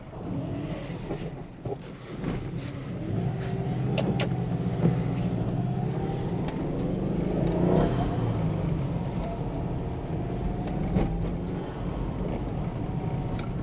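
A Subaru Forester XT engine hums at moderate volume from inside the car while driving in the rain, with road noise and occasional clicks and knocks over the steady drone.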